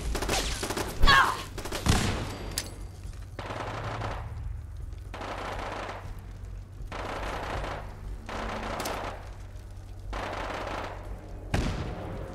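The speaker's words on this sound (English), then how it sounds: "I don't know who's shooting." Bursts of gunfire in Fallout 4 come in several separate volleys a couple of seconds apart, each one a dense rattle, while a steady low hum runs underneath.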